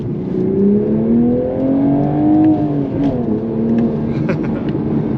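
2023 Toyota GR Supra A91-MT Edition with manual gearbox pulls hard in sport mode, its engine note rising steadily then dipping as it shifts, loud and close from inside the cabin with no talk.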